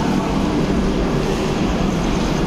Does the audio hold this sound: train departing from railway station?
yes